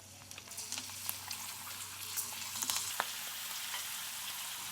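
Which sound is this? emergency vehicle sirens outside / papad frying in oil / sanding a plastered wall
papad frying in oil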